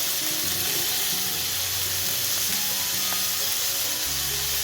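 Onions and fenugreek seeds fry in a pan for vendhaya curry, giving a close, continuous sizzle with occasional light clinks of stirring and no voices.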